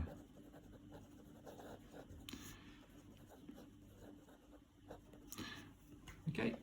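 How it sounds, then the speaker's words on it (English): A pencil writes on traditional paper, its faint, close scratching strokes coming in short uneven bursts against a quiet room. "using traditional paper and a pencil"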